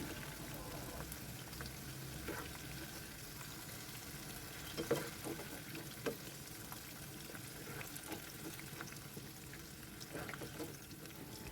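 Ingredients for sambal goreng krecek frying in a large pot, a steady low sizzle running throughout with a few brief stirring knocks, fairly quiet and without talk.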